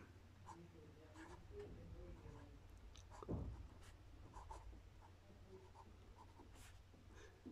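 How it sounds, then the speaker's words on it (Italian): A cleaned and refilled Pelikan Souverän M800 fountain pen writes on paper: soft, close scratching strokes with small ticks and one louder bump midway, under a quiet room hum. "Andiamo a vedere come scrive la nostra penna pulita e ricaricata."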